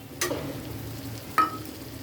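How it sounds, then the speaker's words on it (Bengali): Tomato paste goes into a sizzling spice mixture in a pan for a Bengali raw jackfruit and prawn curry, giving two brief splatty bursts over a faint, steady frying hiss. "এবার আমি যে টমেটোটা পেস্ট করে রেখেছিলাম সেটা এর মধ্যে দিয়ে দেবো।"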